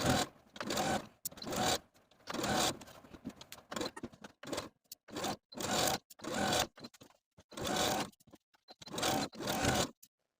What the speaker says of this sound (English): And now I'm ready to sew my pocket.